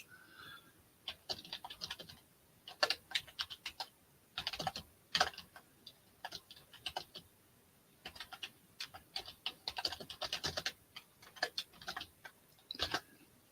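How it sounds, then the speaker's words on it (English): Typing on a computer keyboard in irregular bursts of light, close key clicks with brief pauses between flurries, in a quiet room. "I tried to type in a comment"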